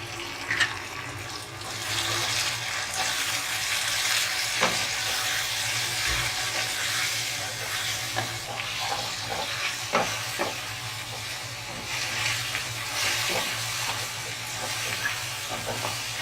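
Minced keema with red chilli, green chilli, coriander powder, turmeric and salt sizzles steadily in a pan, with intermittent scraping and stirring clicks over a continuous frying hiss.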